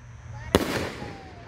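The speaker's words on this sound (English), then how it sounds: "we got the 5-inch Nishiki Blast by Raccoon Fireworks. Nishiki with peach." A 5-inch Nishiki Blast firework shell by Raccoon Fireworks with peach color bursts with one sharp, loud bang, followed by a fading crackling tail while voices murmur faintly.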